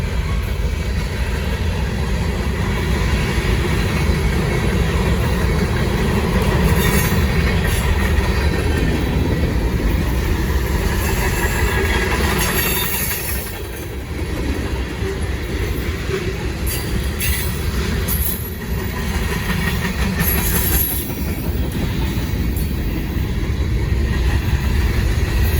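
A Norfolk Southern freight train rolls past in Gaffney, South Carolina, with a loud, steady rumble of wheels and railcars, faint squeals and clicking over the track joints.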